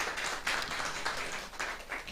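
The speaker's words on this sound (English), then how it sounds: "We can clap." Small audience clapping after a nutrition talk, a faint, brief patter of hands with soft uneven bursts, heard at a distance.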